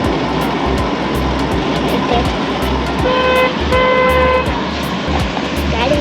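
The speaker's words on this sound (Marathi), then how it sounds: "गाडी चालत आहे." A car drives along at night with a steady road rumble inside the cabin, and a couple of short horn toots sound midway.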